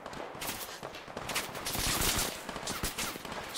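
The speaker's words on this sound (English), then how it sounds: "I'm literally running towards the gunfire." Rapid gunfire in the modded Fallout 4 game, a dense continuous burst of automatic shots and impacts, loud and close with no talking.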